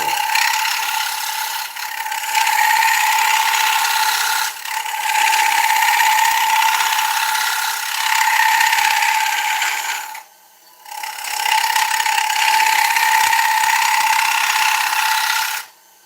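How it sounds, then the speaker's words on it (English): A shear scraper cutting dieback ash spinning on a wood lathe: a loud, sustained, harsh scraping with a steady high whine, dipping briefly twice and stopping for a moment before resuming. "I hate the sound of a shear scrape. It goes right through me."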